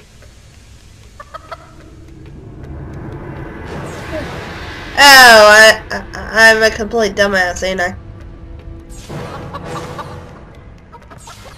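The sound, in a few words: chickens clucking in a video game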